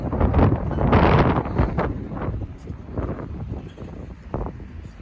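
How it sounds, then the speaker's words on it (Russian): Gusty wind in Victoria, British Columbia, buffets the microphone in loud, uneven bursts, a steady rough roar that rises and falls with no talking. "Даже несмотря на небольшой ветер."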